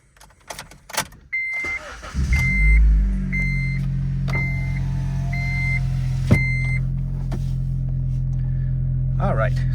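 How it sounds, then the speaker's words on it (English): A 2011 Honda Civic Coupe with 88,000 miles cranks and starts, its engine catching with a rumble and settling into a steady idle, while periodic chime beeps sound and a few clicks precede it. "we will start the vehicle up"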